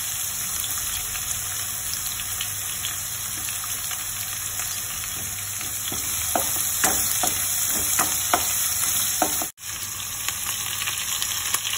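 Green chilies and crushed garlic sauté in sesame oil for Chettinad crab gravy, giving a steady broadband sizzle with scattered crackles and spoon scrapes that build near the middle, plus a brief dropout near the end.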